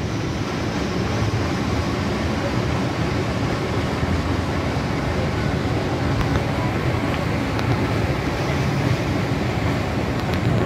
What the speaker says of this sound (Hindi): और यहाँ से पानी गिरते हुए